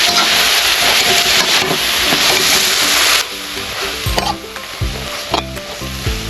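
Vegetables and fish stir-fried in a pan for a rural Isan dish, with loud steady sizzling and scraping of a spatula, then quieter frying broken by sharp clanks of utensil against the pan.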